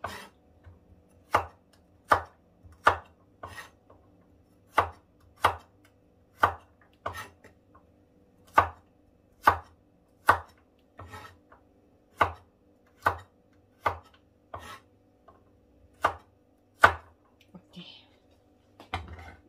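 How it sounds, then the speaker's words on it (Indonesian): Knife chopping chilies on a board, a slow, regular series of crisp, close single chops, roughly one per second, with quiet gaps between them. "Terus ini cabenya potong-potong begini"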